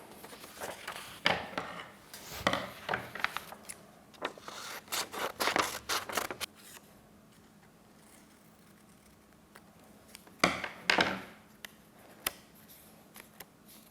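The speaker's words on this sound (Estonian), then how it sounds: "Kui oleme oma lille valmis joonistanud, siis lõikame ta välja." Scissors cut out a paper flower drawn for a sunflower craft, making close, quiet clusters of crisp snips and papery scrapes with pauses between runs. No one speaks.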